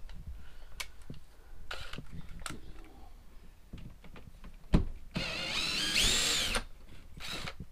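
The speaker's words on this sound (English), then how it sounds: "Can you hand me the drill?" A power drill removing screws from a vent fan whirs in short bursts, then runs for a sustained high-pitched spin, with clicks and handling noises between.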